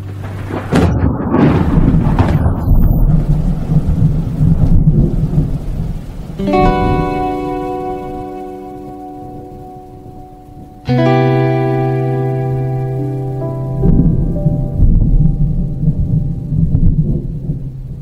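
Thunder rolls through a rainstorm as a broad, heavy rumble in the opening seconds; sustained tonal music then rises over it and carries on to the end.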